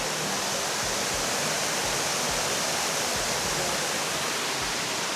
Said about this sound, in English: So there's the back of that waterfall.